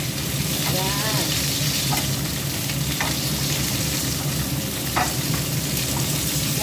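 Pork adobo sizzles and fries steadily in hot oil in a home kitchen, a dense continuous crackle with a few brief clinks of utensils, with no talking over it.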